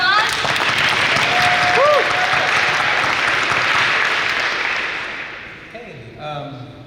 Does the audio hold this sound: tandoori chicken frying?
no